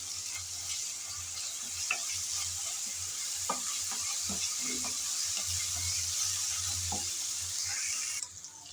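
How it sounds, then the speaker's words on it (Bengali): Ginger and garlic paste frying with chopped onions in a pan, a steady close sizzle broken by scattered scraping taps of a spoon stirring, with no voices. "আদা আর রসুন বাটা দিয়ে পেঁয়াজের সাথে নেড়ে চেড়ে ভেজে নিলাম"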